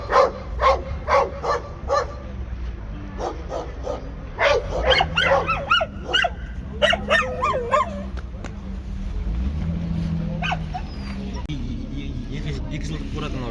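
A Kazakh Tobet dog at an outdoor animal market barks in a quick series of loud, close yaps and whimpers, then gives way to market noise and voices talking.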